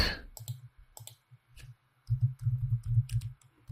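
Computer mouse clicks while a WordPress site is being edited, sharp and close, arriving singly at first and then in quick irregular bursts.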